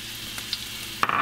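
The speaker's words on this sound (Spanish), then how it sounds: "saltear la cebolla un poquito" Steady sizzling of onion sautéing in hot oil, with a louder crackle burst near the end.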